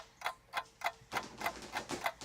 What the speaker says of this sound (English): a ticking clock